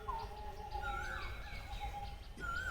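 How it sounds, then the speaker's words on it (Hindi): A koel and other birds call in a morning farm garden in Laokhowa, Assam, with a few clear rising whistles and softer chirps over a constant low background hum and no talk. "एक तरफ कोयल बोल रहे हैं और एक तरफ दूसरे चिड़िया बोल रहे हैं"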